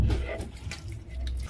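Water poured into a thick sweet potato batter for cinnamon pancake bites, a close, soft trickling with small splashy drips running steadily for a moment, no voices.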